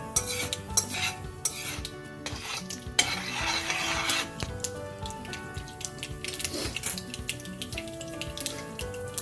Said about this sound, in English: Wait for the mustard to splutter.